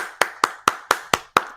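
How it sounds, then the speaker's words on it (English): Six sharp, evenly spaced hand claps, each about a quarter second apart, close and crisp with nothing else around them. "I'll echo that clap"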